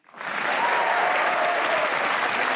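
Loud, steady applause from a studio audience at a comedy talk show swells quickly and holds as dense, close clapping with no voices on top.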